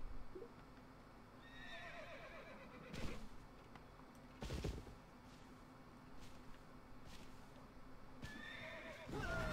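A horse in a video game whinnies and neighs a few times over a low, steady game soundscape, with hoof clip-clops and sharp impacts mixed in.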